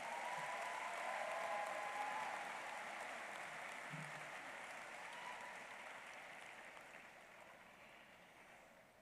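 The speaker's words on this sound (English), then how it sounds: "Another round of applause for the orchestra and the choir." Applause for the orchestra and choir at a high school commencement ceremony, a distant, steady wash of clapping from a large crowd that slowly fades.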